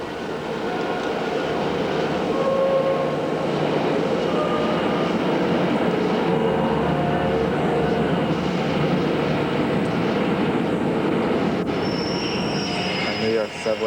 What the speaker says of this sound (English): Subway cars arriving,